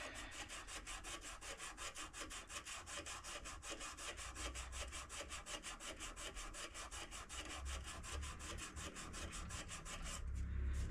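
An oak pen blank is sanded by hand with 80 grit sandpaper in quick, steady back-and-forth strokes, giving a close, rhythmic scratchy rasp throughout.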